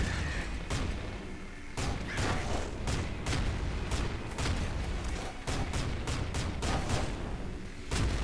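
Explosive weapon fire from the Nuclear Throne video game, a rapid series of loud, sharp blasts and booms in an uneven rhythm, each bursting out over a constant noisy game background.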